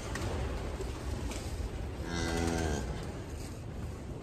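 Cattle moo inside a straw-bedded shed holding cows and young calves, one clear drawn-out moo rising above a constant busy barn hubbub of shuffling and distant animal noise.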